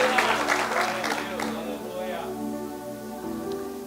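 A church congregation breaks into applause and shouts of glory to the Lord, a dense burst of clapping and voices that fades away as the crowd quiets.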